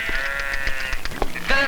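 Goats bleat in quick succession at close range, several wavering, nasal cries overlapping with some scuffling, and no clear speech.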